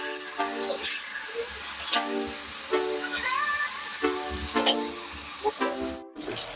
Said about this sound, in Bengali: মাছগুলো উল্টে পাল্টে একটু ভেজে নিতে হবে